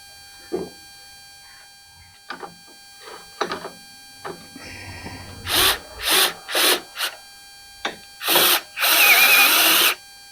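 A power drill drives screws into a Troy-Bilt 30-inch snowblower in several short whirring bursts, preceded by scattered clicks and handling knocks, with the final run held longest.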